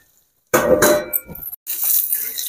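A lid clatters onto a pan of cooking ivy gourd (tindora) in a village kitchen, a short metallic clang and rattle followed by a brief pause and steady sizzling.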